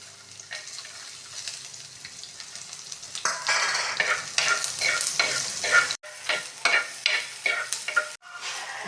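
Chopped shallots and ginger sautéing in a pan, a light sizzle that turns into loud, rhythmic stirring scrapes and crackles from about three seconds on, close and repeated in bursts.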